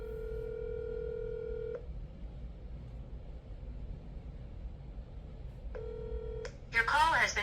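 An outgoing phone call rings back with a steady, buzzing ringback tone: one long ring, a long silent pause, then a shorter second ring, after which a recorded voice starts speaking.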